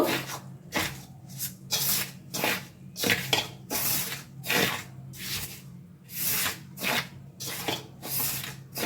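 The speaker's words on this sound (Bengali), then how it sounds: "এবার এই শুকনো উপকরণগুলো সুন্দর করে মিশিয়ে নেব।" Dry ingredients for cauliflower paratha dough are mixed by hand in a bowl, making rhythmic rubbing, rasping strokes that repeat about once or twice per second, close and fairly loud.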